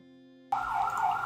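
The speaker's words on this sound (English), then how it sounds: "that's not the police, that's an ambulance." An ambulance siren in a video game starts abruptly and wails loudly and steadily, close and alone after a quiet tonal background.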